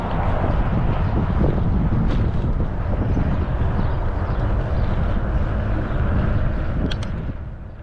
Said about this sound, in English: the wind is brisk